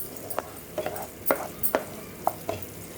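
A utensil stirs kadai paneer gravy in a pan, producing about half a dozen distinct scraping strokes spaced through a few seconds over a faint background sizzle.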